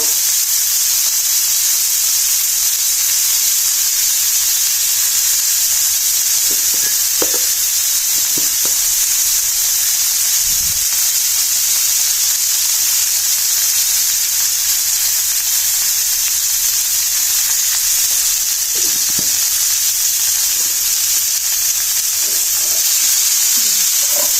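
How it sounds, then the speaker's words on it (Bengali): Cauliflower and potato fry in hot oil, giving a loud, constant sizzling hiss with a few soft knocks of stirring scattered through it. "ওই তেলে আমি ফুলকপি এবং আলুটাকে ভেজে নেব"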